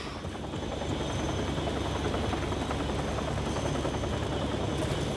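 A helicopter in the video game Still Wakes the Deep drones steadily and loudly throughout, a dense continuous rotor roar with no voices over it.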